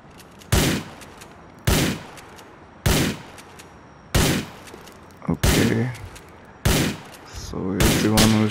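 Gunfire from GTA 4 rings out in sharp, loud bursts roughly every second or so, each crack followed by a short tail, with later shots mixing into heavier layered impacts and rumbling effects toward the end.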